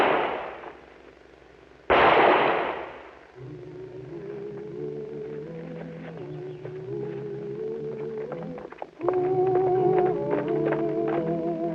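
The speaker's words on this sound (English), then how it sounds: "Tom did most of the shooting, Miss Lucy" Two loud gunshot bursts from a western shootout, the first at the very start and the second about two seconds in, each followed by a fading echo, then a sustained tonal musical score.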